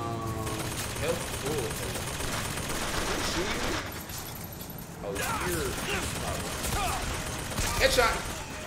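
Dense rapid gunfire from a first-person shooter game rattles almost continuously, with bursts and sharp shots stacked over a busy mix of game sounds and a brief lull midway.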